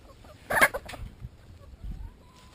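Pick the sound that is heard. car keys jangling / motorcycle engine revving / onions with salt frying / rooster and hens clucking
rooster and hens clucking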